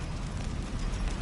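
A Confringo fire spell from Hogwarts Legacy unleashes a dense, roaring burst that sounds like fiery rushing noise. It fills the whole short moment at steady loudness, with no voices over it.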